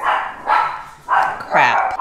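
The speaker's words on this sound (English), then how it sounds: "Y'all probably just heard the doorbell and the dog." A house dog barks indoors, close and loud: four sharp barks in uneven rhythm over about two seconds, heard on their own without talk.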